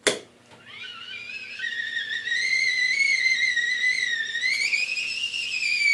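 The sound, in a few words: tea kettle whistling as gas escapes through lid opening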